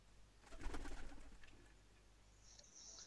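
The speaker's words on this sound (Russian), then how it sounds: "Они воркуют хорошо, я люблю голубей." Pigeons coo softly in a home dovecote, a few low throaty murmurs rising and fading, faint and close in a quiet room with no voices.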